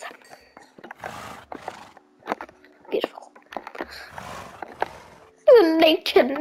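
A Minecraft horse gives a short, loud, wavering neigh near the end, following a stretch of quiet breathy whispering and faint game ambience.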